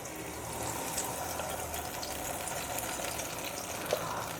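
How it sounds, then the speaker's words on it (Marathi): Banana paste cooks in hot ghee in a wok, making a continuous, even sizzling hiss at moderate volume with one small pop near the end, with no voices. "आता तूप आहे ना आपलं गरम झालेलं आहे मस्त आता त्याच्यामध्ये हे केळ्याचं जे आपण पेस्ट तयार केली ना ती टाकून घ्यायची आपल्याला"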